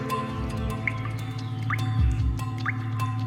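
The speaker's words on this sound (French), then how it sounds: "Alors ici, il y a une source. On peut entendre qu'elle est toujours active. Elle est alimentée par un petit goutte à goutte." Slow drops of water fall one by one into a still-active prehistoric spring in the Vézère valley, several distinct plinks spaced apart over a low, steady rumble of background noise.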